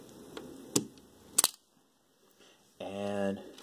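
Spring-loaded panels on a Transformers Optimus Prime toy snap open in two sharp plastic clicks, followed by a brief pause and then someone talking.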